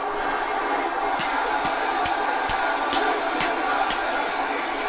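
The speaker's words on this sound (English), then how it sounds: "Crowd chanting, this is awesome." Dense arena crowd noise at a WWE SummerSlam 2024 wrestling event, a loud steady roar of fans chanting together, with sharp rhythmic claps punctuating it about every half second.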